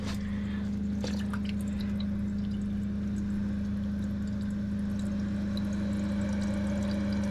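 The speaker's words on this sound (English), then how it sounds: "Oh, the water bubbling. It's coming." Water bubbles and gurgles through newly connected plumbing in an off-grid cabin, carrying iron-rich water. A steady pump-like hum runs underneath throughout, with faint trickling and dripping on top.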